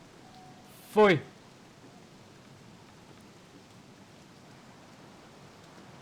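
Steady soft rain hisses throughout a Don't Starve game scene, even and continuous, with one short spoken exclamation near the start.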